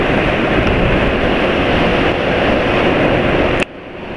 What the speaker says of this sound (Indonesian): Suara mesin emang kasar, nggak terlalu halus ya